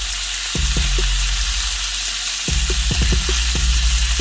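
About four strips of applewood smoked bacon sizzling loudly and steadily in a pan for an Irish breakfast, with a few sharp clinks and scrapes of a utensil against the pan; no talking.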